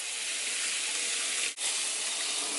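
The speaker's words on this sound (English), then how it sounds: "Oh, that's spraying me a little bit." A hose sprayer hisses continuously at close range while a mini pig is bathed, a steady broadband spray with one brief break partway through.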